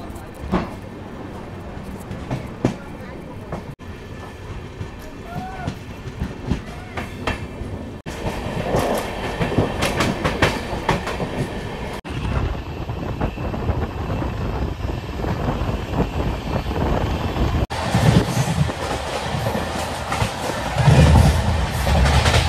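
Humsafar Express on its inaugural Sealdah–Jalpaiguri Road run, heard from on board as a loud, continuous rumble of wheels on rails with rhythmic clickety-clack and wind buffeting throughout.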